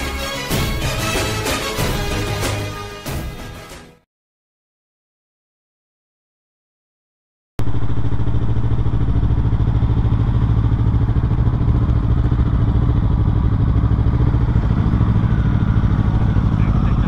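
Yamaha YZF R3 and Aprilia RS 457 motorcycles climbing a sandy hill road in a race, a loud steady engine roar running continuously after a stretch of music and a short silence.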